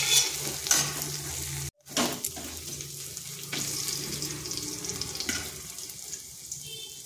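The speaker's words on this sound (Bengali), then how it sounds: "আদাটা একটু ভেজে নিচ্ছি যাতে তার কাঁচা গন্ধটা চলে যায়" Ginger frying in hot oil in a pan with turmeric already added, giving a steady soft sizzle with occasional stirring scrapes, close by, briefly interrupted by a short gap.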